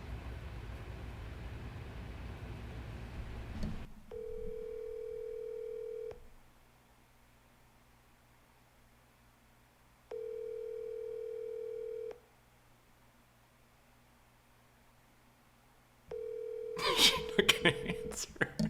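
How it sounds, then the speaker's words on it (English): Outgoing telephone call ringing back: two evenly spaced long electronic ring tones separated by silence, a third starting as noisy voices cut in, with a burst of talk before the first ring. "So I'm going to call Jada right now, and we're going to see if she actually answers her phone"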